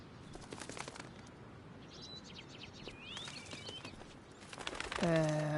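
A bird bursts into flapping flight in the Life is Strange game, a quick flurry of wingbeats over quiet ambience, followed by a loud sustained tone at the end.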